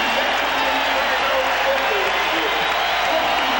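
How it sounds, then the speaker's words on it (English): Crowd noise at a March 1992 Celtics home game against the Blazers, a broad steady roar of fans filling the arena throughout, with a broadcast announcer talking over it. "The Celtics hearing it from the crowd as they get off to the fast start"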